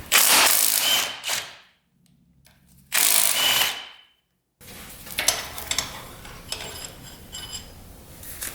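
A ratchet clicks rapidly in two loud bursts while loosening ATV cylinder head bolts, followed by quieter metallic clinks and handling of tools up close.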